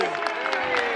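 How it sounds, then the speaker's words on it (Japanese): Audience at a Fukuoka fan appreciation event applauding, a brief, dense burst of crowd clapping that fills the whole moment. "ヒットくん頑張ってくれてましたから、ヒットくんに大きな拍手。"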